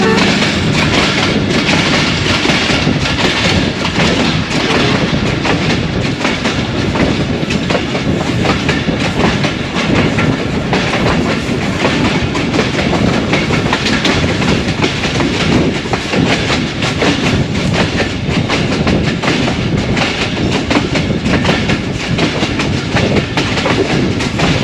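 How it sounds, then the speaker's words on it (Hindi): Track noise from a train on the Narowal branch line: a dense, loud, continuous rumble with constant clickety-clack from the wheels, steady throughout with no voices. "इस ब्रांच लाइन की सबसे ख़ास बात यहाँ के ट्रैक साउंड्स हैं।"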